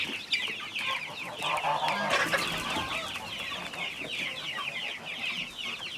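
Hens and young chicks cluck and peep steadily at a backyard coop, a dense, busy chorus of short calls that carries on without pause.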